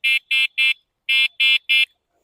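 Six short electronic beeps from a bicycle horn on a solo ride along the western coast of Koh Samui near Nathong Beach, sounding in two groups of three with a pause between, close and loud, with no talk.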